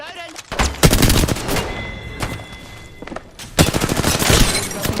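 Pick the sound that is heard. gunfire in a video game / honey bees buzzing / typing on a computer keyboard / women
gunfire in a video game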